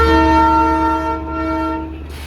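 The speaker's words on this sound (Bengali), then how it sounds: "তো পরপর 3টে টয় ট্রেন একইভাবে দাঁড়িয়েছিল" A Darjeeling toy train at Batasia Loop sounds its horn in one loud, sustained, nearby blast lasting about two seconds before it fades out.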